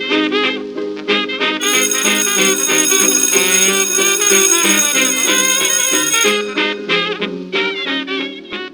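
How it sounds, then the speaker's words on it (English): A ringing bell opens a swing-music radio show, sustained bright metallic tones layered over a tune, loud and close, swelling then settling, with no voices. "That's the sound of the bell,"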